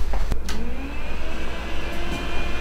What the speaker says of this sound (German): ich mach mal den Föhn an.